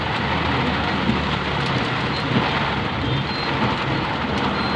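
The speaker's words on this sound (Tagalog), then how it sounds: "Malakas ang bugso ng ulan." Heavy rain pours steadily and loudly while driving in the Philippines, a dense continuous roar with low rumbling, no talk heard.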